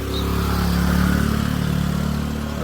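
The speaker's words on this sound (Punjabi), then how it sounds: "ਸਕੂਟਰੀ ਦੇ ਆਵਾਜ਼ ਇਹਦੀ ਸਕੂਟਰੀ ਦੇ ਜਾਂਦੀ" A scooter engine labors uphill with a steady, droning hum that swells slightly and holds, loud and close for a few seconds with no voices over it.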